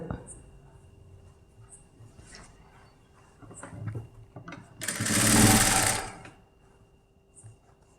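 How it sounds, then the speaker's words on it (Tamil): A sewing machine stitches a neckline in short, stop-start runs, with a loud steady whirring burst in the middle and quieter clicks and mechanism noise around it, while someone speaks at times. "கரெக்டாக நிறுத்தி நிறுத்தி தைச்சு காமிக்கிறேன் உங்களுக்கு"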